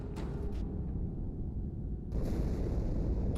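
Deep, rumbling explosion in the video game Halo 2, a low boom that swells at about two seconds and rolls on under continuous game noise, fairly faint and heard alone without talk.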